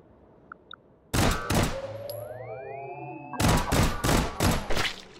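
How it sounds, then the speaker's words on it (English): Rapid gunfire bursts and blasts in the VR shooter Hot Dogs, Horseshoes & Hand Grenades: a loud volley after a few soft clicks, a rising whistling sweep in the lull, then a longer sustained string of close shots. "that was just me not really caring about the explosions and the getting shot"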